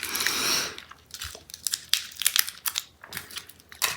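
Dubble Bubble fruit-flavoured bubble gum is chewed close to the microphone in a quiet ASMR setting, with irregular moist clicks and soft crunchy smacks and no speech.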